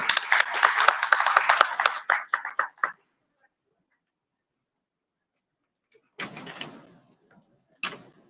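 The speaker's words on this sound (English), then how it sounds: "Again, I request you to have a clap for our leader." A burst of applause from a small group at an anniversary inauguration ceremony fades out, followed by silence and then a couple of brief, scattered spurts of clapping.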